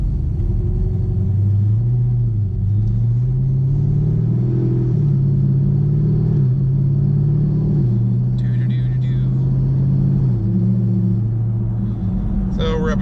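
A cammed 2017 Chevrolet Camaro SS pulls uphill under throttle, its loud, lumpy V8 rumble droning steadily and rising and falling in pitch through the clip, with brief lighter rattles near the end.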